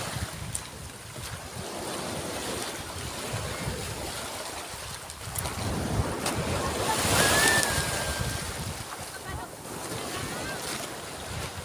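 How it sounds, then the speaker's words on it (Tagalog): Strong ocean waves surge and wash along a beach near a tilted, leaking ship, a steady roar of surf with wind buffeting the microphone and a brief whistle-like tone partway through. "Lakas ng alon guys."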